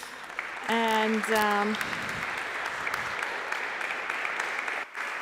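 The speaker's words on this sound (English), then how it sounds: "Round of applause." A conference audience applauds after a panel talk, a steady wash of clapping that holds for several seconds after a short burst of bright electronic tones, with one brief spoken word.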